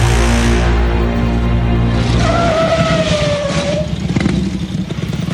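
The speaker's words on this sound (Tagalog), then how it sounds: "bakit niyo pinarang motor ko?" A motorcycle rides up loud and close, engine droning then winding down with a brief skidding screech as it comes to a stop, ending in clatter and settling noise.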